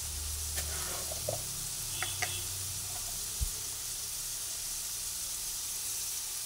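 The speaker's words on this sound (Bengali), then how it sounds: "আলু ভাজা হচ্ছে" Potatoes frying in hot oil in a pan, a steady soft sizzle and hiss with a few faint clinks of stirring, no talk.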